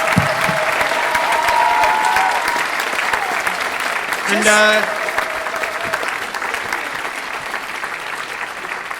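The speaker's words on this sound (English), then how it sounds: "please show it in the form of an applause right now" An audience at a celebration in the Vogue theatre in Vancouver claps in sustained, dense applause that fills the room, while a voice briefly speaks over it.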